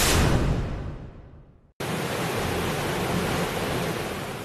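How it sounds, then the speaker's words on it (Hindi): Heavy roaring rush of a waterfall in full spate after torrential rain in Dang, Gujarat, broad and steady with no voices, following a brief silent gap. "गड़गड़ाहट के साथ पूरे वेग से बहता झरना"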